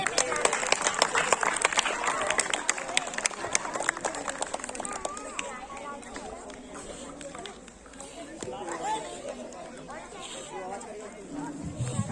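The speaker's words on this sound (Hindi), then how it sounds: "तालियां बजती रहें।" An audience at a school Republic Day celebration claps continuously, a dense patter of many hands near and loud at first, then thinning, with a public address voice and crowd chatter over it.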